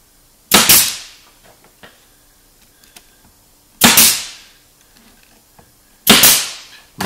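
A nail gun fires through a veneer panel into a rabbet while building floating shelves: three loud, sharp cracks spaced a few seconds apart, each with a brief decaying ring, and faint handling noises between.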